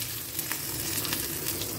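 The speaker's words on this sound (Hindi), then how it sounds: "मैंने इसमें लहसुन और मिर्ची डाल दी है।" Garlic and chillies fry in hot oil for a dal tadka, a close, continuous sizzle and crackle with scattered pops and no talking.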